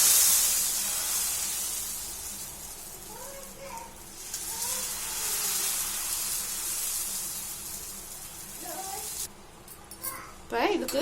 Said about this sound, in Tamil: வாங்க நம்ம இதை அடை ஊற்றிடலாம். அடுப்பில் ஒரு தோசைக்கல்லை ஹீட் பண்ணிக்கோங்க.